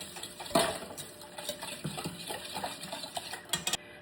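Ube cupcake batter being stirred in a bowl, with baking soda, baking powder and vinegar among the ingredients: close, irregular scraping and clinking of a utensil against the bowl, with a few sharper knocks.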